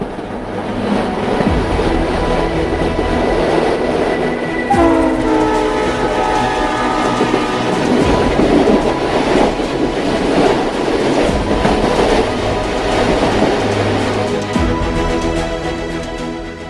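A train rolls across the Pamban bridge near Rameswaram, India's first vertical-lift sea bridge, with a steady loud rumble of wagons, rhythmic clickety-clack and a horn sounding partway through.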